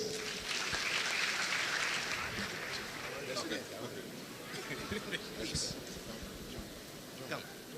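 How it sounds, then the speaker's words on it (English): An audience at a school renewable energy competition applauds at a moderate distance in a steady, faint wash of clapping, with scattered chatter underneath. "A round of applause."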